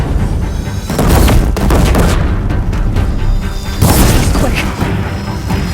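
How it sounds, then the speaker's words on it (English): Deathbringer war machines in Horizon Zero Dawn pound a bridge with heavy, continuous fire, a loud dense barrage of booms and crashing impacts that swells twice, with no voices over it. "Deathbringers keep firing, this bridge will go!"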